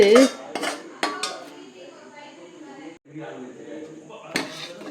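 Cooked cabbage filling is stirred into adai batter in a bowl, with clattering spoon-on-bowl knocks and scrapes, loudest at the start and end, and a voice talking underneath.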